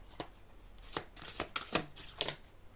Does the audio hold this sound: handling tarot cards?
yes